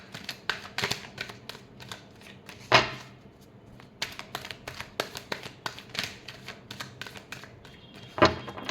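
Tarot cards are shuffled by hand in a quiet room, a run of soft rapid riffles and flicks with a few sharper slaps, fairly close and faint.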